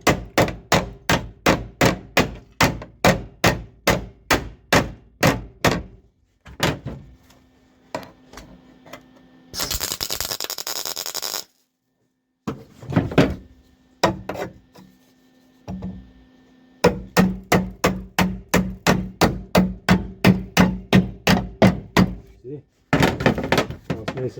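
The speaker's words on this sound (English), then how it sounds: "so you can keep hammering." Rapid, regular hammer blows on sheet metal while fitting and welding a Z28 floor pan, loud and close, coming in long bursts broken by short pauses and a brief hiss of welding.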